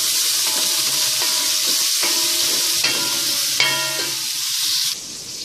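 Chopped onion and peppers for a sofrito sizzle loudly and steadily in hot oil in a pan, with a few clinks of a utensil against the pan, until the frying noise drops away near the end.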